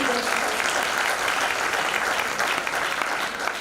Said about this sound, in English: Let's clap for.